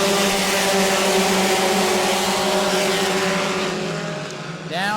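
Four-cylinder Bomber A division stock cars roar off together at the start of a 20-lap race at New Smyrna, a dense, loud wall of engine drone that holds steady and begins to fade near the end, when a pitch-shifting pass sweeps by.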